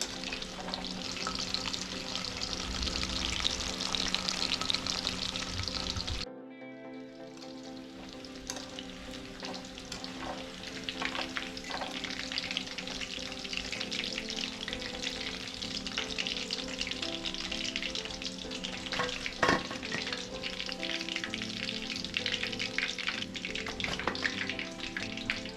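Chicken pakoras frying in hot oil in a pan give a steady, close sizzle with bubbling crackle throughout, briefly dipping before resuming at full strength, with no talking.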